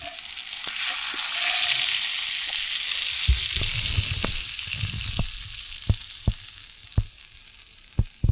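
Butter-laden food frying on a camp stove inside a heated tent in below-freezing cold, a steady close sizzle with sharp utensil clicks and scrapes growing more frequent toward the end.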